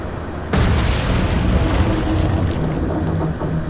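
A torpedo strikes a U-boat in the naval video game Atlantic Fleet, bursting into a sudden loud explosive boom that then rolls on as a sustained rumbling, churning roar as the submarine goes down.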